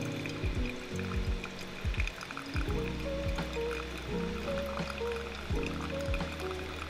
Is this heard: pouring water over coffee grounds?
yes